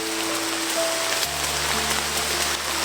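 Steady rain falls outdoors as a dense, even hiss of drops, with a low engine-like hum underneath and no talk.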